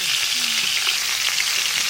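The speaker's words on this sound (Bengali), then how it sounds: "মাছ ভাজা হতে হতে আমি এদিকে মশলাগুলো করে নেবো" Magur catfish frying in a wok of hot oil, a continuous loud sizzle with small crackling spits, heard alone.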